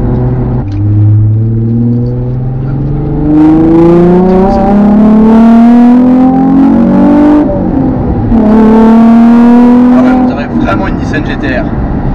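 Nissan 350Z engine and exhaust revving loud and close, pitch climbing in two long sweeps separated by a brief drop, with a talking voice over it.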